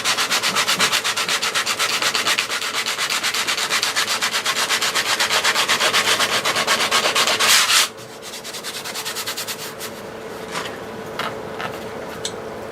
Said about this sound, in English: Now let me get a little sandpaper